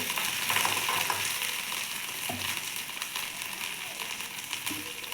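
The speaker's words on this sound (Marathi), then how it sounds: "हिरवी मिरची जिरे मोहरी व्यवस्थित गरम होऊ द्यायचे" Green chillies with cumin and mustard seeds sizzle steadily in hot oil, a loud, close, continuous frying hiss with small crackles and stirring scrapes throughout.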